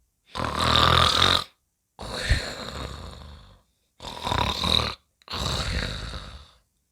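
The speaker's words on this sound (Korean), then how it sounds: "나무 그늘에는 부자가 코를 골며 자고 있었지요." Four long, loud snores follow one another with brief pauses between, each a rough, rattling breath heard up close.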